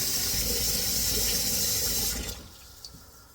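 Water gushes from a tap into a pot in a steady splashing rush, then cuts off abruptly, leaving a few faint drips.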